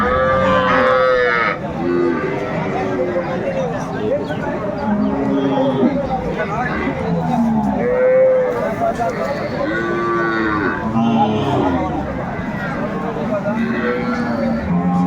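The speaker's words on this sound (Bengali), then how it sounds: "শাহিওয়াল জাতের গাভী বাছুর আমি দেখছিলাম" Many cattle, including Sahiwal cows with calves, moo repeatedly, near and far, over a busy crowd murmur with people talking throughout at Aftabganj livestock market.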